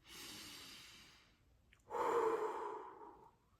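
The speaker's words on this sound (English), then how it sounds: "I can breathe deep." A person takes a slow deep breath, a soft airy exhale followed after a short pause by a louder, fuller breath in, close and quiet with no speech.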